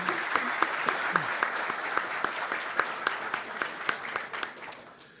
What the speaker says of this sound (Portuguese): Uma salva de palmas aos nossos conselheiros.